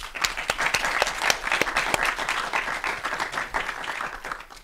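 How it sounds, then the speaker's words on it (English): An audience breaks into sustained applause for negotiation expert Chris Voss at a live talk, dense clapping filling the room steadily throughout with a few louder individual claps standing out. "Let's give Chris a round of applause."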